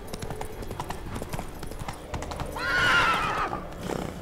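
Horse hooves clip-clop steadily in The Witcher 3 video game, then a loud, clear whinny rises and falls for about a second near the middle before the hoofbeats carry on.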